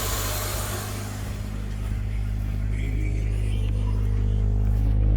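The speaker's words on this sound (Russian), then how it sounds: "Все, ребята, я запустил двигатель," A Toyota 7A-FE car engine idles steadily just after a decarbonizing treatment, a constant low rumble that holds close and even for the whole stretch with no revving.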